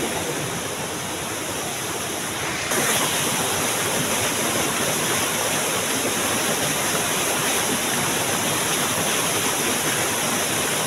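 Badkaguda waterfall rushes in a dense, continuous roar close by, swelling slightly louder after a few seconds and holding steady with no voices.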